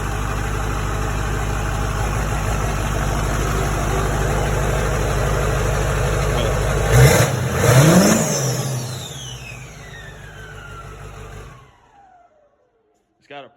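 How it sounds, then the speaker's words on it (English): A Duramax diesel engine swapped into a C10 truck runs on its first start with a new fuel system and a spicy tune, loud and steady, then revs up sharply before winding down and shutting off. "Started really well for it to be the first time it started with this fuel system and all"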